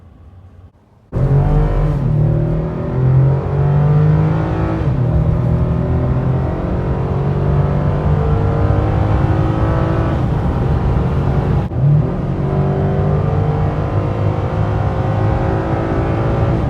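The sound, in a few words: Chevy ZR2 truck driving in off-road mode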